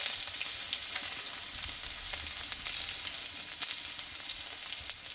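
Chopped onion with panch phoron and a split green chilli frying in a pan for a dudh kochu stalk curry, a steady close hiss of oil with light scraping stirs throughout.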